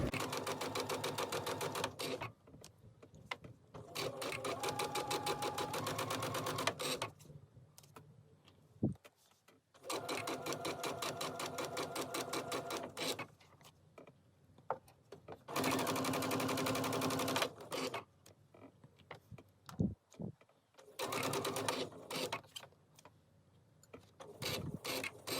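Sewing machine stitching a quilt block seam, a steady mechanical whir running in several long bursts with short pauses between them.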